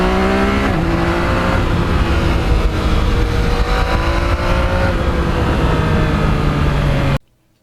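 A Yamaha MT-09 triple-cylinder motorcycle engine revving hard and close, pitch climbing and dropping through several rising sweeps before cutting off abruptly.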